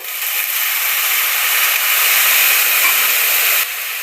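Water poured into a hot pan while cooking a patra masala, a loud, steady hiss up close that stops abruptly near the end.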